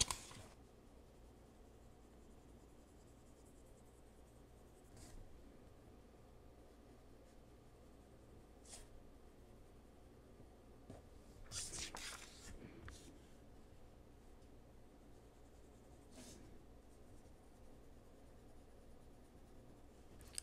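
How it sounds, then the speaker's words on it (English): A glass dip nib scratches across Yoshikawa paper in soft, intermittent strokes, with a few slightly sharper scrapes. The sound is faint and close in a quiet room. "I really like how the glass nib feels on this paper."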